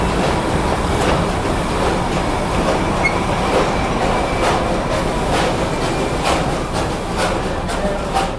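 The Darjeeling steam-powered toy train is arriving at a station platform with a steady, loud rumble of rolling wagons and faint clicks and squeals from the wheels. No voices can be heard.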